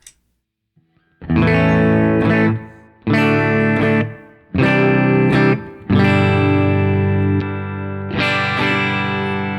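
Electric guitar played through an Electro-Harmonix Satisfaction Plus pedal into a clean amp setting, first on the bridge pickup and then the neck: five loud, sustained strummed chords ring out alone, separated by short gaps.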